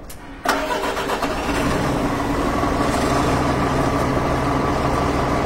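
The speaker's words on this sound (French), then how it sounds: "le léger de 11 tonnes, c'est donc un Sherpa qu'on va pouvoir entendre causer un peu" A Sherpa light 11-tonne military truck starts with a sharp crank and catch. The diesel engine then settles straight into a loud, steady, rumbling idle that holds close for several seconds.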